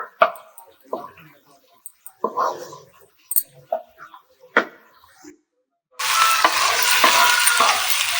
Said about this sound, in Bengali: এবারে সব সবজিগুলো আমি খুব ভালো করে তেলের মধ্যে একটু কষিয়ে নেবো